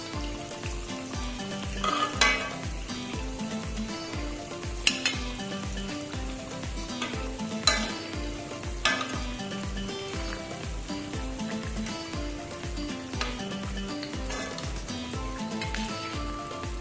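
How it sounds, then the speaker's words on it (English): Mawa-filled gujiyas fry in hot oil with a steady, soft sizzle that runs underneath prominent rhythmic background music throughout. "And I'll be frying the next batch now in the same way."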